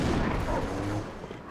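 Rapid gunfire from the video game Halo 3, a loud, dense burst of shots that stays heavy through the first second, then eases into a lower, rumbling tail.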